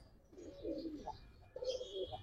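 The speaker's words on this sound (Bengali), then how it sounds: "বিলাই চোখের কবুতর" A cat-eyed pigeon coos softly at close range, two throaty rolling phrases separated by a brief pause, in a quiet setting.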